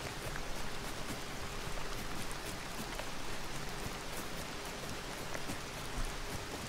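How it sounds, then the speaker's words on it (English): Steady rainfall in the survival game H1Z1, a dense, even patter of drops on surfaces continuing throughout at moderate volume with no voices. "It has to be a rainy day on H1Z1 today"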